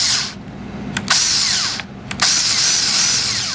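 A power drill bores into wood while building a trestle table, whining loud and close in long sustained runs broken by two short pauses.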